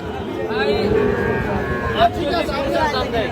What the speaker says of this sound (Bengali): রং বেরঙের গরু দেখেন কত সুন্দর পাকড়া